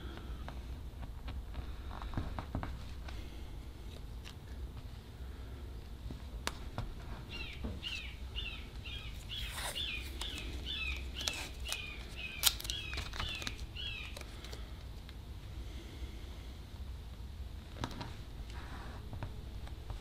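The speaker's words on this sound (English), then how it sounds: "So you can hear we have some, I think they're called Cooper hawks flying around here." Cooper's hawks call while flying overhead, giving a series of high, rapid chattering notes in the middle of the stretch, moderately distant, over steady outdoor background noise.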